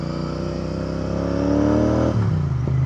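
Royal Enfield Interceptor 650 parallel-twin motorcycle exhaust revs past 4,000 RPM with a steady rising drone, then the pitch drops sharply as the throttle closes or the gear shifts down. Loud and close, with no talking.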